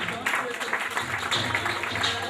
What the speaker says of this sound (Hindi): नवाज शेख साहब के लिए बहुत सारी तालियां होनी चाहिए